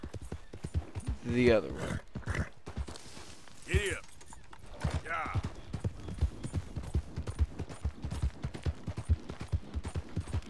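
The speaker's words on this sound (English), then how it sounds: "And then I hop on my beautiful Arabian, and I ride out of here" Hooves of an Arabian horse galloping in Red Dead Redemption 2 keep up a steady, fast clip-clop the whole way through, with someone talking over the ride.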